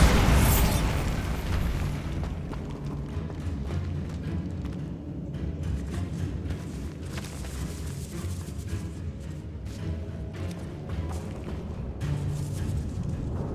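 In Hogwarts Legacy, a Bombarda spell detonates with a heavy boom at the opening, followed by a long, low rumble and scattered crumbling debris that lingers at steady moderate loudness.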